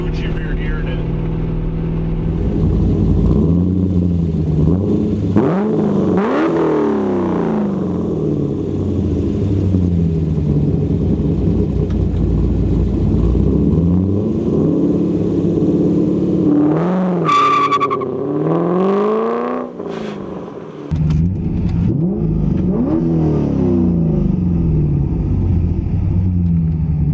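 A C5 Corvette's V8 revs and accelerates hard during a lap, loud and close with rising and falling engine pitch through gear changes, a brief lift near the end, and someone talking over it.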